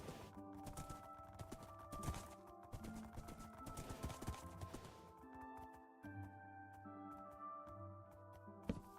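Horses in the Minecraft video game clip-clop in steady hoofbeats with an occasional whinny, mixed over layered game sounds and music, fairly loud and continuous without talk.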